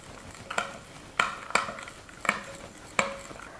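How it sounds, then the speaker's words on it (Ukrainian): Whisking egg with a pinch of salt, sugar and a little vanillin in a bowl for pancake batter, with five sharp clinks of utensil against the bowl at irregular intervals, close and fairly loud with nothing else around. "Перемішуємо всі ці компоненти до об'єднання."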